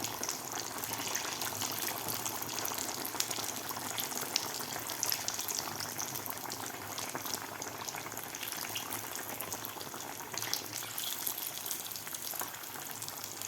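Potato vadas deep-frying in hot oil give a dense, even bubbling sizzle that holds close and steady throughout, with no talking.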